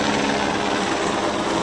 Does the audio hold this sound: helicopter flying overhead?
yes